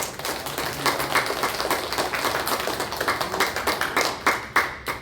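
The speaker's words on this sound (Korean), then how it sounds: "다시 한 번 더 우리 하나님께 영광의 박수로" A church congregation at a Korean Sunday worship service claps loudly and continuously, a dense, close patter of many hands that slowly thins toward a few final claps.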